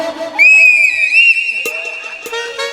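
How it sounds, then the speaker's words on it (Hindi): A sharp, sustained whistle blown at a live Maithili stage show, rising and held for about two seconds, with faint crowd noise and brief clicks around it. "एगो सीटी बजा दो बउआ।"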